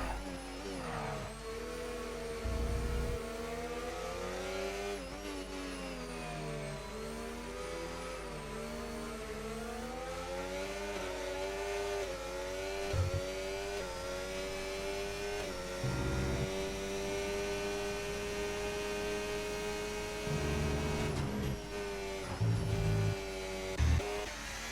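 Formula 1 race car engines in a racing video game, a continuous high-pitched whine rising and falling through gear changes over a long lap, with occasional brief thumps and no speech.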